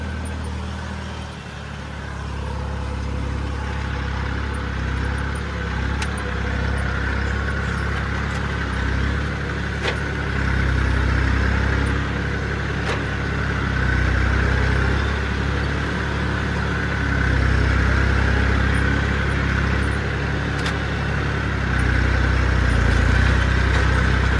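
A tractor engine runs steadily in a field during sowing, drilling seed mixed with DAP and potash in crossing passes, with a continuous low rumble and drone that holds close and fairly loud throughout, with no talking.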